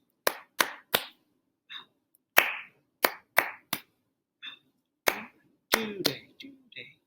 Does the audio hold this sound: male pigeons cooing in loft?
no